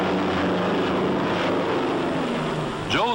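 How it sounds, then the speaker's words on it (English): A low-flying bomber attacks a convoy, its steady propeller engine drone filling the scene. A higher sweeping whine rises at the end. "the convoy is being attacked by low-flying bombers"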